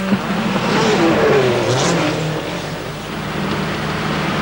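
Race cars at a French snow motorsport event in Chamonix roar past at close range, engine note rising and falling as one car accelerates and revs, with a faint tire squeal mixed in.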